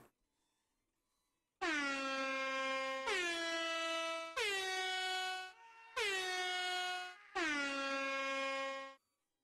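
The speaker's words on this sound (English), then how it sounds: "Air horn." Air horn from the video game Space Station 13, blasting five long, loud honks in a row with brief gaps between them, following a short quiet stretch at the start.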